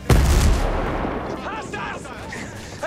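A single loud sniper shot rings out in an open world shooter video game, a sharp close blast followed by a rolling, fading echo with faint distant game sounds.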